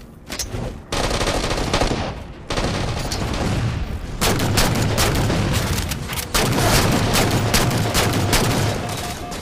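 Dense gunfire from the Halo 4 Infinity Slayer match on the Abandon map: rapid automatic bursts and shots rattle almost continuously, loud and close, with brief gaps between volleys.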